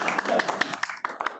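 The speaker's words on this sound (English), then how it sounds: "So there's a small ripple of applause." An audience at a student voice survey presentation gives a small, sparse ripple of applause, a few light claps at close range mixed with speech.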